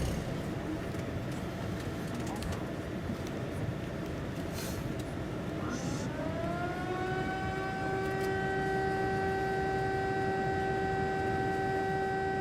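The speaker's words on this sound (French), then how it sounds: "À 10h précises, les sirènes retentissent dans tout le pays" Yom HaShoah memorial sirens across Israel rise slowly out of a dense background of traffic and crowd noise, swelling after several seconds into a sustained distant wail.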